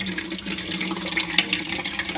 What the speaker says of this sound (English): you'll know when you're good because water will start coming out